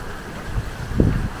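Hurricane Milton's wind gusts in Orlando, buffeting the microphone with low rumbling bursts that swell and peak briefly over a steady background of rain.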